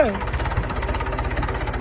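A tractor engine labours steadily as the machine strains near a well, giving a continuous close chugging drone with an even pulsing beat and no break.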